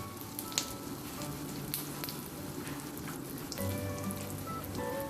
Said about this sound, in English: Once oil is heated, we will now put jeera, that's cumin seeds